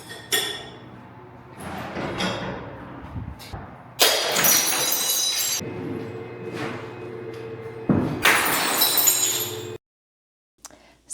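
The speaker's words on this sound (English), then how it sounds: "I had the best time just smashing stuff." Objects being smashed and glass breaking in a smash room: several loud crashes with bright shattering bursts and clinking debris, separated by quieter pauses and rattling.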